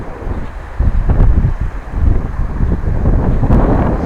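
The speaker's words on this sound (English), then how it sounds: "It is getting windy, so maybe the audio won't be heard after all" Strong wind blows across a beach in Yucatan, Mexico, buffeting the microphone with loud, gusty low rumbles that rise and fall throughout.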